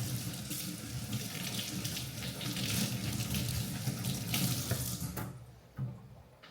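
Running tap water splashes steadily into a sink as fresh cilantro is rinsed beneath it, a close, broad rushing hiss that breaks off near the end with a faint drip and clunk.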